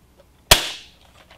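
A Nerf Raider blaster fitted with an Unleashed upgrade kit fires a dart at a window, giving one sharp, loud snap that fades quickly in an otherwise quiet room.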